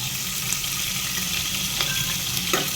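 Mustard seeds, cumin and green chilies fry in hot oil for a palav, giving a continuous close sizzle with faint stirring scrapes.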